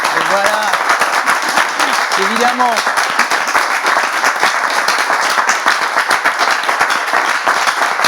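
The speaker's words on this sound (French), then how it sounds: "on peut applaudir une deuxième fois" A church congregation applauds a second time, steady loud dense clapping throughout, with a voice speaking briefly over it near the start.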